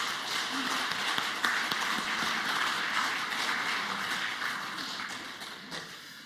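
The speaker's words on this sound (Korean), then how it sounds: "우리 격려하고 축복하는 박수 한번 하도록 하겠습니다" A church congregation claps during a Sunday worship service, a fairly faint, even patter of many hands that carries on for several seconds and slowly fades.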